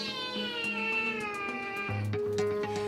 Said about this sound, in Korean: 우는 고양이는 엄마 고양이에요.